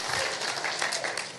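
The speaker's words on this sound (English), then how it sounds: "Give him a round of applause." Audience applause in a leadership symposium hall after a correct quiz answer, a short steady burst of clapping heard at moderate distance without a break.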